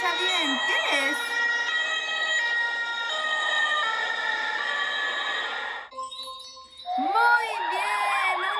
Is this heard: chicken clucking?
no